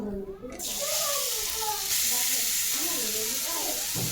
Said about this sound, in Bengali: এটা দেওয়ার পরে আমি এই গাজরগুলোকে ভেজে নেব হালকা করে